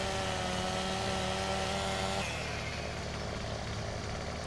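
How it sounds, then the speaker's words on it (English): A chainsaw in Farming Simulator 17 cuts wood with a loud, constant engine drone that shifts pitch and eases slightly partway through, alone with no talk. "Then we'll be done with the chainsaw."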